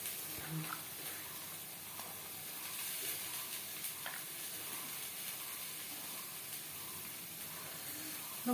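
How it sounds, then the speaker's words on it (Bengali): Potatoes fry in hot oil with salt and turmeric, giving a steady close sizzle and hiss throughout, with occasional stirring clicks and no talking. "লবণ হলুদ দিয়ে আলু ভেজে নেব।"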